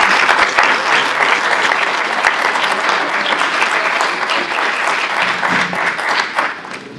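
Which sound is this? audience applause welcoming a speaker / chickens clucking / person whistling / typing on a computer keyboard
audience applause welcoming a speaker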